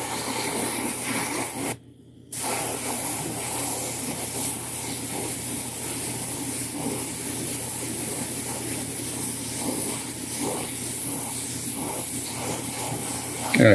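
Steady, loud spray-gun hiss of thin paint misted onto a 1/4-scale custom Thor figure, continuous and close, with one brief pause near the start before spraying resumes evenly.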